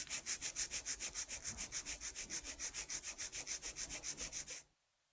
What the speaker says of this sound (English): My first step in filing is straight out from the nail groove on the left.